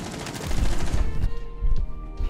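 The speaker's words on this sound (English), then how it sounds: "The bullet sounds so weird when you shoot the floor." Rapid gunfire from Rainbow Six Siege shots striking the floor, loud and dense bursts of impacts with a brief gap, then more shots resuming near the end.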